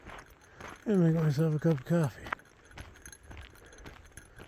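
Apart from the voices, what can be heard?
bear bell rattling while carried on a hike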